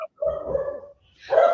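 A dog barks twice from inside a home, a couple of loud, close woofs separated by a short pause, with no talking over them.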